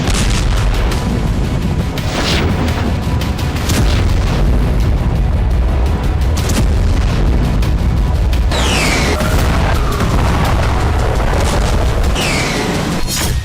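Loud, continuous rumbling booms and blasts from drone strikes in Russia, with overlapping explosions and sharp bursts throughout, dense and heavy with no pauses.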